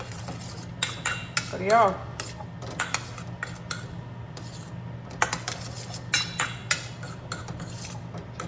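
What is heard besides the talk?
stirring konda kadala sundal in a pan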